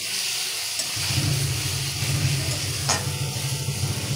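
Onions and tomatoes sizzle steadily in a pan, with a constant frying hiss, a low rumbling undertone and a brief clink partway through.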